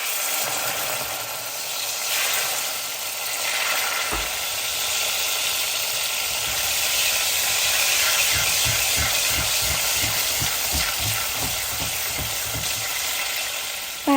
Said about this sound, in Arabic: طاوة حامية على النار راح نحط شوية زيت زيتون